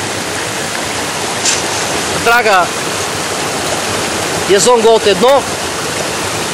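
Fast-flowing river water rushing steadily around a Jason Gold One sluice box dredge, a loud constant roar with someone speaking over it.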